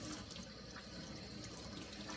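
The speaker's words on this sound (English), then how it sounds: "The first step to using the palette is to take the spongy bottom layer and drench it in water." Tap water running steadily onto the spongy bottom layer of an acrylic stay-wet palette, a continuous close splashing stream that fills the whole moment without any talk.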